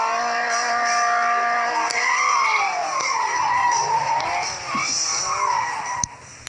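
A car in a video game skids with long wavering tire squeals over a steady engine drone, loud and continuous with no talking.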